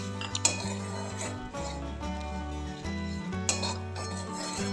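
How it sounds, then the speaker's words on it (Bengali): Semolina and grated carrots being stirred in a pan for a sweet, with a few clinks and scrapes of a utensil against metal over a steady tonal hum, close and moderately loud. "সুজি দিয়ে এটা আবার নাড়াচাড়া করব।"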